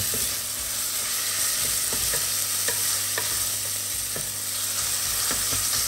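Onion frying and being stirred in a hot pan as the base for pork risotto, a loud continuous sizzle with scattered soft scrapes and taps of the utensil, close up and with no talking.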